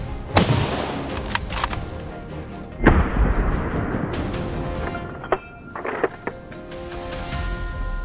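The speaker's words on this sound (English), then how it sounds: "The shot rang out, and the boar collapsed instantly down and gunshots echoed through the forest" A rifle fires at a wild boar in a forest, with sharp loud reports that ring out and decay into long echoes, followed by several quieter cracks.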